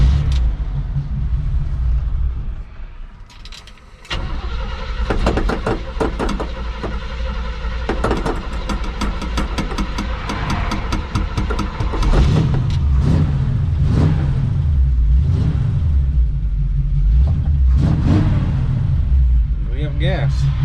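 A car being worked on for floor and rocker repairs starts up after gas is added, then revs repeatedly in rough bursts, loud and close, with people talking over parts of it.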